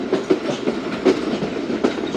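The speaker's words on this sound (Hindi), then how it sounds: "इस वक्त दोस्तों दोपहर के 12 बजे हैं और लांडी रेलवे स्टेशन पर अराइवल हो रहा है ट्रेन का।" A passenger train rolls into Landi railway station, its wheels clattering over rail joints in a steady clickety-clack rhythm at close range, with no voices.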